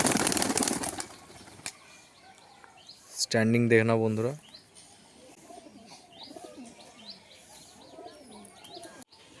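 Pigeons at a loft flap their wings in a loud burst, followed by soft cooing and scattered chirps at moderate distance, while someone talks nearby.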